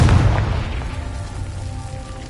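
Confringo blasting spell in the Hogwarts Legacy video game: a low explosive boom at the start that decays into a crackling, rain-like rumble, fading steadily over two seconds.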